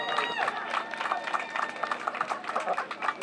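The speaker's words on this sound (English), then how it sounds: "Let's give him another round of applause." Outdoor crowd at a city National Night Out event giving a renewed round of applause to a national anthem singer, steady clapping and some cheers with voices mixed in throughout.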